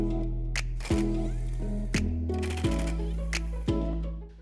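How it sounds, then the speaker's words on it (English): T25 Torx screws come out of the third brake light of a 2018 Jeep Wrangler JL, with a few sharp clicks and small tool knocks at irregular intervals over a low steady hum. "There's 2 T25 Torx screws on the back. Let's get those pulled off"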